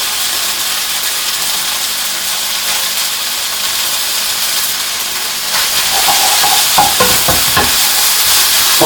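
Beef satay noodles go into a hot wok and are stir-fried, with a loud, constant sizzling hiss that intensifies partway through and is joined by scraping and tossing clatter from stirring.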